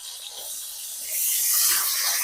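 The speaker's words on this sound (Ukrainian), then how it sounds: "Смажимо на другій стороні" Continuous sizzling hiss of chicken frying in a hot pan, growing louder halfway through and staying steady with no voices.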